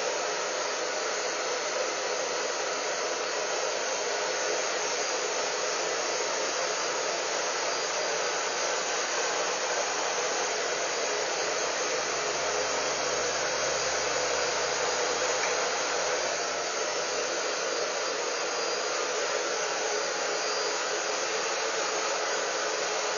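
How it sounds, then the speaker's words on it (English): A blow dryer set on low and held right against the scalp to dry curly hair gives a loud, steady airy whoosh that runs continuously with no pauses and no talking. "I just take my blow dryer on low and keep it really close to my scalp"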